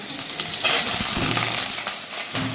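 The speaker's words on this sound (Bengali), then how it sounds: "এখন এই আলুগুলো ভাজার জন্য ছেড়ে দেবো" A loud burst of sizzling as potatoes hit hot oil, settling into a steady crackling fry with occasional stirring clinks.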